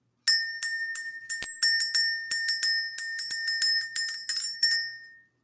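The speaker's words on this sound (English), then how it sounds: "Let's ring the bell." A small bell rings again and again, close and loud, in quick bright strikes of uneven rhythm, each leaving a short ringing tail, with no voices.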